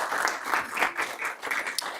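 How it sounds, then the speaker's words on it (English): A school board meeting audience gives a short round of applause, steady scattered hand clapping at moderate volume lasting a couple of seconds. "give me a little round of applause for the great work and time they spent tonight"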